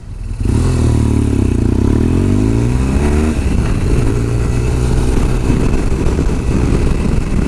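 A BMW R1200 GS motorcycle riding off, heard from the rider's position as the engine revs up through the gears, with a loud rising drone and a shift, then steady rumbling with rushing wind noise.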